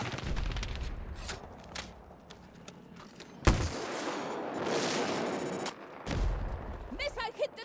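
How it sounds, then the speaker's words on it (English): Battlefield 2042 combat with sharp blasts and booming missile explosions, a loud impact hitting midway and another burst near the end, separated by rumbling, with crackling gunfire and faint voices in between. "Missile hit the target!"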